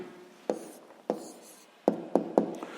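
A pen writes a math answer on paper in a few short, scratchy strokes and light taps, quiet and sparse with gaps between marks.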